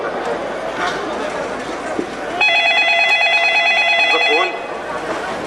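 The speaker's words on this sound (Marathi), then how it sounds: "फोन." A telephone rings with a bright electronic ringtone for about two seconds over background chatter in a home, then stops.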